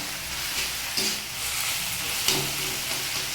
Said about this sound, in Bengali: দেখুন আমি সিমটাকে নাড়তে নাড়তে একদম মিশিয়ে ফেলেছি